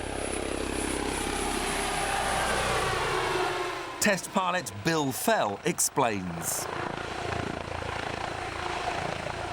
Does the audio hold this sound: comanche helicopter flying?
yes